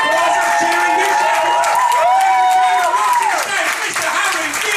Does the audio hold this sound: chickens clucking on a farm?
no